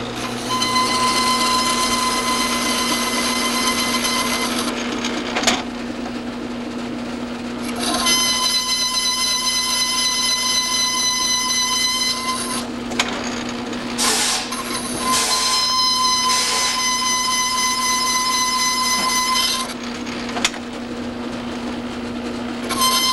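Lathe turning a stainless steel valve part for a Harley-Davidson Evolution or Twin Cam engine, a steady loud machining whine with high tonal squeal in several long passes, brief breaks between cuts, no talk.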